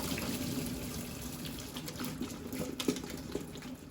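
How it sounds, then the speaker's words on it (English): Boiled potatoes are drained through a colander in a kitchen, with a steady, soft pour of water running for several seconds. "I'm going to take a colander and we're just going to drain these off"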